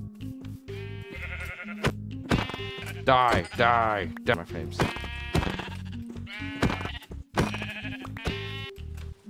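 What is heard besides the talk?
sheep bleating in Minecraft video game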